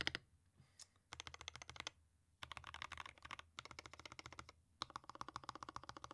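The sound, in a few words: typing on RAMA WORKS M65-B mechanical keyboard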